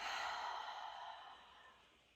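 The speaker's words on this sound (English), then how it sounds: "Breathing in through the nose and out through the mouth." A single soft, breathy exhale out through the mouth during a trauma-informed yoga session, close and quiet, starting strong and fading gradually over about two seconds.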